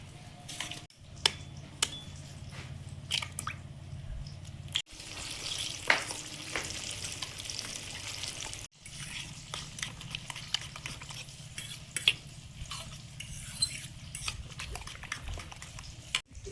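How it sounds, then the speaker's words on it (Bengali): Eggplant slices fry in oil with an even crackling sizzle, broken by frequent utensil taps and clatters and a couple of brief pauses. There is no speech. "বেগুনগুলো ভাজা হয়েছে, সব তুলে নিলাম"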